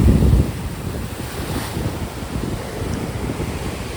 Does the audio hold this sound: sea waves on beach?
yes